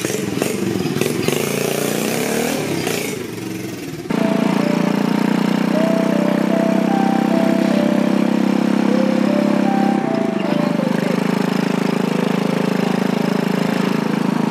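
A motorcycle on an afternoon test ride: a steady, loud engine drone from close by, with a rougher start before it settles into an even hum, changing pitch slightly as it moves. No talking.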